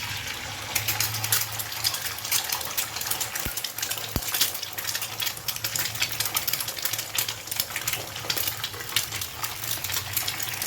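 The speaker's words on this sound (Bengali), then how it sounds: "এবারে ওই তেলের মধ্যে আমি দুটো ডিম ফাটিয়ে দিয়ে দিচ্ছি।" Two eggs cracked into hot oil left from frying peanuts, sizzling hard and steady for the whole stretch, a loud continuous crackle and hiss with no talking over it.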